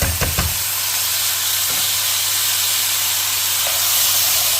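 Washed bulgur tipped into a pan of fried beans, setting off a steady, loud hiss and sizzle of hot oil with a few brief clatters at the start, then a continuous even frying roar.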